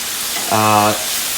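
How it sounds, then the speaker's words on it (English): Pork sears in a hot cast iron pan with a continuous bright sizzle and crackle, broken midway by a short tonal burst that briefly rises over the frying. "sear all the edges so that the moisture of the pork stays inside"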